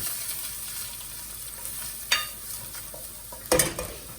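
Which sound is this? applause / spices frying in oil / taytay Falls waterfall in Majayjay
spices frying in oil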